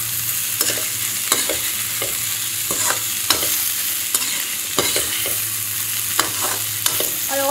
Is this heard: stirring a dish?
yes